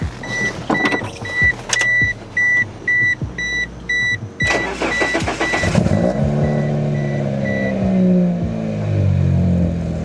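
Evenly spaced electronic beeps, then the engine of an overheating barn-find second-generation Mitsubishi Eclipse cranks, catches and settles into a steady low idle.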